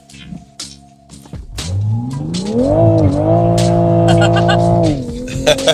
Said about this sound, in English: Just pedal to the metal, traction control off.